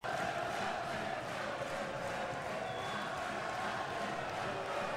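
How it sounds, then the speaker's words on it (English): A packed basketball arena crowd roars in a steady, sustained wall of cheering and shouting for Florida Gulf Coast against UC Santa Barbara, loud and continuous throughout. "You can tell by the reaction of the crowd."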